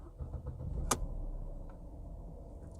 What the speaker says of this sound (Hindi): अगर मैं इसकी चाबी के साथ आप यूँ चाबी इसकी लगा के इसको स्टार्ट कर सकते हैं।